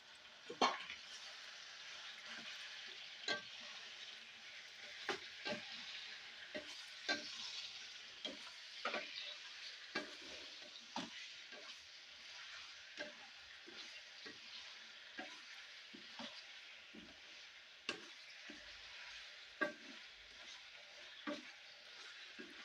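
Mutton pieces frying with onions and masala in a pan for curry, a steady broad sizzle with regular scraping stir strokes and clinks throughout, close and alone.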